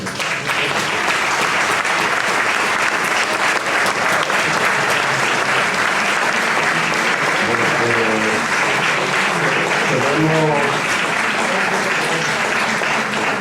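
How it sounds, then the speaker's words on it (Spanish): Sustained audience applause fills a conference hall after a talk, steady and loud throughout, with a few voices faintly audible beneath the clapping. "un aplauso"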